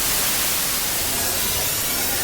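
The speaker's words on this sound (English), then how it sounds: "that starts out easy enough with pink noise and brown noise" Pink and brown noise from a synthesizer soundbank: a steady, dense broadband hiss with a heavier low rumble, continuous and unchanging, with no other sounds.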